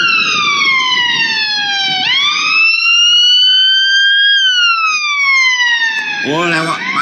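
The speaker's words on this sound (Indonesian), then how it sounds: "Oh, lewat pakai ambulans." Ambulance siren passing nearby, a loud wailing tone that slides down, rises and then holds before falling again, dominating the scene with faint background noise underneath.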